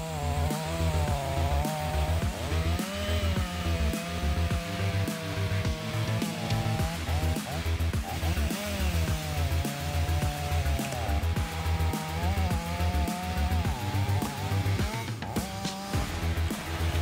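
A chainsaw engine drones loudly and continuously while cutting a tree, its pitch rising and falling as it bogs into wood, with no voices.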